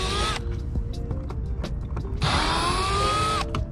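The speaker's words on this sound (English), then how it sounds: "Got a flathead screwdriver, there's a little opening on the bottom. Can pry this speaker cover out of the way." A flathead screwdriver pries a speaker cover off the door of a first-generation Honda CR-V, giving creaking, ratcheting plastic strain with two longer squealing bursts and scattered clicks, close and fairly loud, with no talking.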